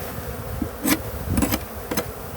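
Honey bees buzz faintly around stacked hive pallets being consolidated outdoors, with a low steady hum broken by a few sharp knocks and rubs of wood, and no talking.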